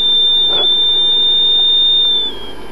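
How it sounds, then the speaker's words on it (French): Buzzer of a homemade liquid and weak-conductor detector circuit running on 12 volts, sounding as a steady, loud, piercing high-pitched electronic tone that holds for over two seconds, then quietens. "et là le buzzer sonne ou la diode s'allume"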